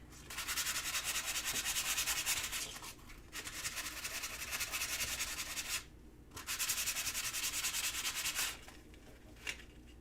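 Hand sanding with 500 grit sandpaper in a workshop: long steady rubbing strokes with brief pauses between them, close and fairly loud, with no talking.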